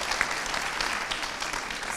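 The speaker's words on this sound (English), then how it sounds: "Can we have a round of applause, please?" Audience applause at a conference session, a steady, dense wash of clapping filling the whole stretch at moderate level with no talk over it.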